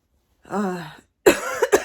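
A short throaty vocalization, then a burst of harsh coughs, a side effect of Zometa, close to the microphone, two or three sharp expulsions in quick succession.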